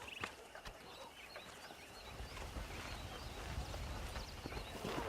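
Hooves clip-clop steadily while horses move about in a western ranch video game, with occasional faint whinnies and bird chirps over a soft outdoor background.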